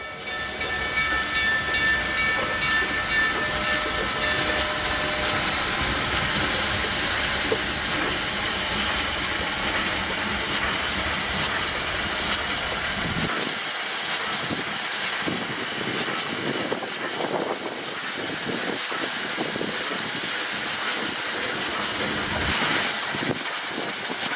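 An orange locomotive hauls a train past near Keystone, South Dakota, a loud continuous rumble and hiss with clanking wheel noise that swells, dips sharply midway, then carries on close by.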